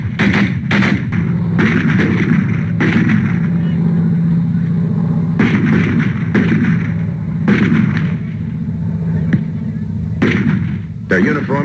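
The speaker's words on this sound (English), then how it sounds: "Automatic fire, heavy," Heavy automatic gunfire in a Vietnam battle at Ap Bac in 1963 crackles in repeated bursts of sharp, loud reports over a constant low rumble, recorded from close by.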